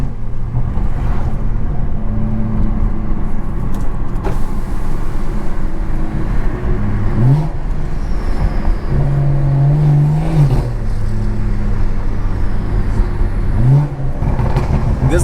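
A Stage 2 BMW 340i drives at night, its engine droning steadily and loud from inside the cabin, with a few rising revs as it accelerates and shifts through traffic.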